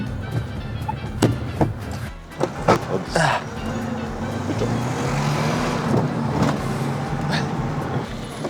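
An old car's engine runs steadily close by, a low hum beneath clatter and sharp knocks, with people talking over it.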